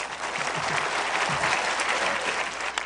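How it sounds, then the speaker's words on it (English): A crowd at a political rally applauds a U.S. Senate campaign announcement, a loud, sustained wash of clapping from many people, with low murmurs of voices beneath. "With the applause still ringing in his ears"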